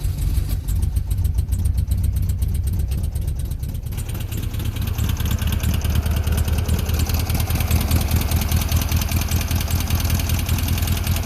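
A car engine with a seized gas pedal idles loudly and steadily, its note thickening slightly a few seconds in and then holding constant without any talk.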